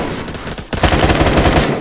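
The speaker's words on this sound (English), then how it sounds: "I just shot somebody through the wall" Rapid automatic gunfire in the online shooter Phantom Forces, loud and close, with dense repeated shots that swell into a sustained burst through the second half.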